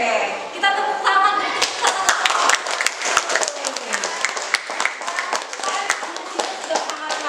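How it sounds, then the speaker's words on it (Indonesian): Indonesian schoolchildren in a classroom clap their hands together, a dense burst of sharp claps rising and falling over several seconds with voices chattering underneath. "kita tepuk tangan"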